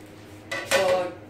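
A lid set over a pizza in a pan on the stove gives two quick metallic clatters, a softer contact followed by a louder ringing clank, close and alone in a quiet kitchen.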